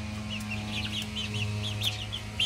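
A two-month-old McLean x Miner Blue gamefowl chick making a run of soft, rapid clucking chirps close by over a steady low background hum.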